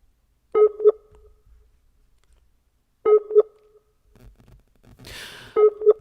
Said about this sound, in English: I might have to call his cell phone to bring him back in.